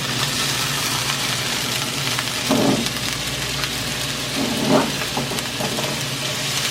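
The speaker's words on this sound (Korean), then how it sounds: "이게 볶아서 뭐 불을 한번 내도 되고 그냥 이렇게 볶기만 해도 됩니다." Beef large intestine stir-frying in a hot pan, giving a steady, dense sizzle with a couple of brief louder surges, close and continuous with no talking.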